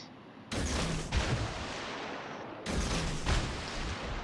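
Warship main guns in World of Warships: Legends fire in two heavy booming salvos a couple of seconds apart, each a loud blast rolling into a long rumbling tail.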